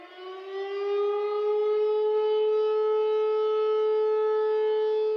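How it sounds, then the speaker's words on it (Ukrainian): A civil defense air raid siren sounds during an air-raid alert in Belgorod, a single sustained wail that swells in the first second and then holds a steady, penetrating pitch, alone and without voices. "Ну і сьогодні у Білгороді знову повітряна тривога."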